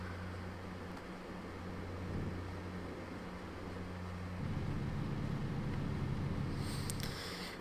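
Truck engine in the driving game American Truck Simulator, a quiet steady low drone with a constant hum that grows slightly louder and denser partway through, running alone without speech.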